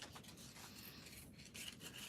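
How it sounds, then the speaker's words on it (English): Quiet, close hand sanding of glue residue from a small wooden bookcase, soft rhythmic rasping strokes with brief pauses, heard alone. "I'm just sanding the glue residue off here"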